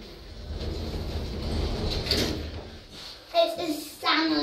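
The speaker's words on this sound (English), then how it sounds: "Doors closing." Stannah lift doors at Kirkcaldy Station rumble and slide shut, ending in a faint thud, with a nearby voice speaking over the mechanism.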